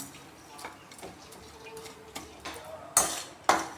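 Sugar melting over a low gas flame in a pan, stirred with a spatula, with sporadic scraping and clinking taps that build to two sharper knocks near the end against a quiet background.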